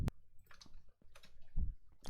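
Computer keyboard keys clicking during a Bed Wars game session, several sharp separate taps at irregular intervals, close and fairly quiet, with no talk.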